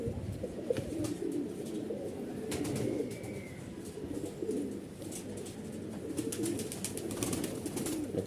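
Punjabi pigeons at a breeder's loft coo in low, throaty rolling calls, several birds overlapping continuously at close range, with occasional faint chirps and light rustling mixed in.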